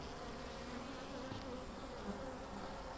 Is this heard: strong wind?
no